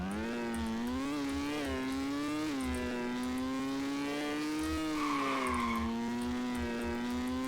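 A Ferrari engine drones steadily in the Roblox game RoVille, its pitch rising and falling gently as the car cruises along, with a continuous, moderately loud hum and no talking.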